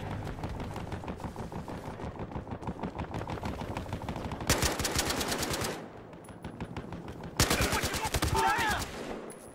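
Rapid automatic rifle fire in the video game Battlefield Hardline, a steady rattling stream of shots with two louder, denser bursts toward the end, over faint background game sound.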